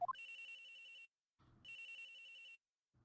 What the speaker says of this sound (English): Agent Hicks's phone. It's ringing from somewhere, sir.